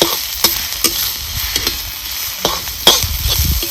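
Coarsely pounded garlic thecha sautéed on a hot tava, with steady sizzling frying and scattered sharp scrapes and taps of the spatula against the pan, up close with no talking.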